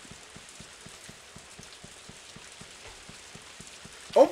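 Steady rain falls in the farming video game Story of Seasons: A Wonderful Life, a soft even patter with regular ticking drops, then a brief louder sound right at the end.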